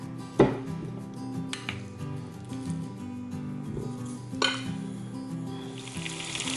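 Chicken thighs marinated with salt, pepper and curry sear in a splash of oil in a pot. A soft, steady sizzle runs under a few sharp knocks and clatters from utensils.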